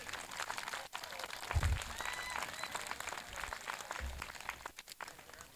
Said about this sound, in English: Round of applause for all the family and friends here tonight.